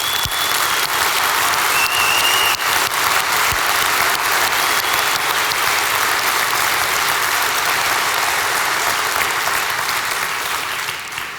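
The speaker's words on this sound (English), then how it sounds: "I think this is worth a big round of applause for our developers." A large conference audience at a Shopware technical keynote applauds the developers, loud sustained clapping from a packed hall that holds steady for the whole stretch and eases off slightly at the very end.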